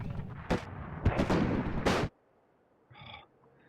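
Abrams tank cannon fire in the video game WARNO sounds as a run of heavy booming blasts and rumbles that cut off abruptly, followed after a quiet gap by a short rattling mechanical burst.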